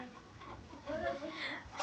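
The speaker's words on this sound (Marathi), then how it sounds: "ही आमची अण्णा आणि ह्या कोंबड्या." Chickens clucking softly in a short burst, faint and somewhat distant, with quiet household voices underneath.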